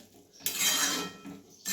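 Bean pods boiling in water in a cooking pot are stirred and turned over, giving short bursts of metal scraping and clinking against the pot between quieter moments.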